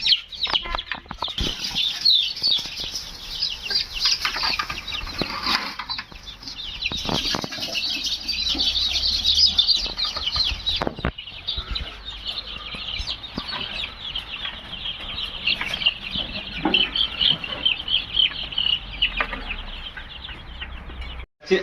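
Chickens kept in a small backyard coop cluck and rustle continuously, with wing flaps and scratching up close over a steady busy background, no talking.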